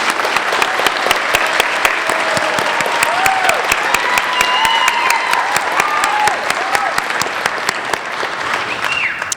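Audience applauding graduates at a Middle College graduation ceremony, steady dense clapping from a large crowd that fills the whole stretch at close range.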